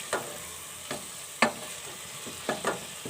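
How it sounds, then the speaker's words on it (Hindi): Turnip sabzi with fresh green coriander stirred in a pan: a steady soft sizzle under repeated scraping strokes of a spoon, about five or six sharp scrapes, close and moderately quiet, with no voices. "हरा धनिया डाल के अच्छी तरीके से इसको मिक्स करेंगे"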